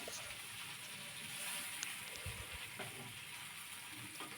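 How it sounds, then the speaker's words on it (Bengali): Potato and fish frying in oil with turmeric for a winter fish curry, giving a steady close sizzle with occasional pops and stirring scrapes, no talking. "এরপরে আমি এটাকে হলুদ দেব দিয়ে খুব সুন্দর করে ভেজে নেব"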